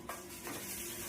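Dal tempering sizzling in hot oil with turmeric, a brief, close, crackling fizz with a light stir.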